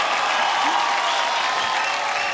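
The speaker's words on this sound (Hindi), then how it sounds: "जोरदार तालियां हो जाए।" Studio audience on a televised dance show breaks into loud, dense applause, a continuous close wash of clapping lasting a couple of seconds.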